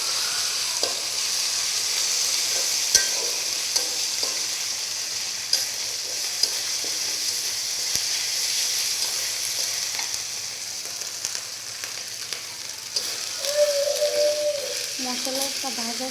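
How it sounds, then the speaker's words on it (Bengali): Ginger, garlic and cumin masala frying in hot oil while being stirred, a steady close sizzle with occasional scraping of the pan throughout, no talking. "আমার মনে হয় মশলাটা তেলে ভেজে নিলে ভালো হয়।"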